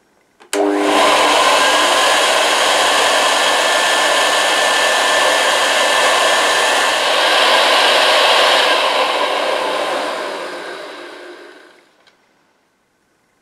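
Hoover C1300 commercial upright vacuum cleaner running with its base plate removed, a loud, steady whooshing roar that starts abruptly, holds for about ten seconds, then winds down to silence.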